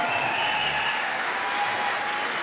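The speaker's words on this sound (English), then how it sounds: "let's hear a big cheer for all the people backstage" Audience at a community Strictly Come Dancing charity show clapping steadily and loudly in a hall, dense continuous applause with a few faint cheers mixed in.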